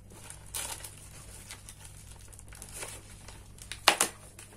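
Plastic wrapping of a SHEIN clothing haul package being opened, with soft crinkling throughout and a loud close burst of crumpling and tearing near the end, no talk.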